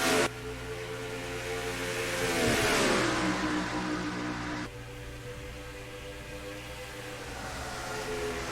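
NASCAR Racing 2003 race cars roar around Darlington Raceway in the South Carolina Education Lottery 400, a revving engine swelling as a car passes close, then a steady drone of engines continuing.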